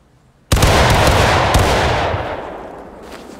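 A rear-rank musket volley crashes out in the War of Rights video game, one loud sudden close burst of many shots fired together that rolls on and slowly fades over a few seconds.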